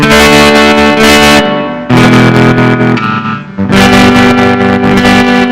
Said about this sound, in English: You can make it fuzz.